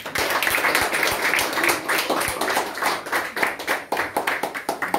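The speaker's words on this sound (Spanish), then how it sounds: "Aplausos. Gracias." Guests at a father's birthday celebration clap after a son's speech, a loud, close burst of hand claps with sharp individual slaps standing out, thinning slightly toward the end.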